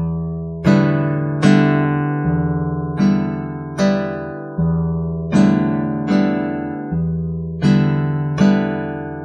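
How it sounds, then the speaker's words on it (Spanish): Guitar waltz accompaniment, a bass note followed by two finger downstrokes in a steady three-beat pattern, clear and close with ringing chords and no voices. "La segunda forma de vals también usa el bajo, pero incluye dos rasgueos hacia abajo con los dedos de la mano derecha."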